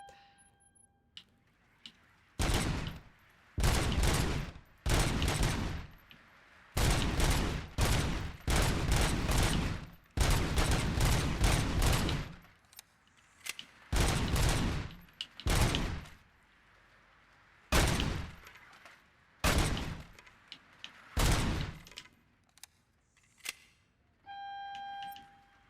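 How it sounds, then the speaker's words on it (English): Gunfire at a shooting range minigame in the video game RoboCop: Rogue City, heard as repeated loud bursts of shots in clusters, separated by brief pauses, with no talking over them. "not a shooting range minigame"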